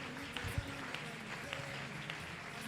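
Congregation applauding during a French-language church worship service, a steady moderate patter of clapping from a gathered crowd with scattered sharper claps, continuing evenly throughout.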